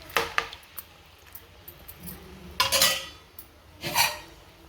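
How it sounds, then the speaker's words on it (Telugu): A metal lid clanks onto a pan of frying chicken, leaving a few close sharp clinks and a bright clatter among lighter scraping and utensil knocks in a quiet kitchen. "మూత పెట్టేసుకుందాం."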